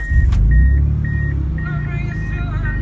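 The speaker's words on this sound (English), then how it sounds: "Alright, so starting up the Sebring Coupe." A 1998 Chrysler Sebring Coupe with a Flowmaster exhaust starts up: a deep rumbling engine catch and settle into idle amid repeated warning chimes from inside the car.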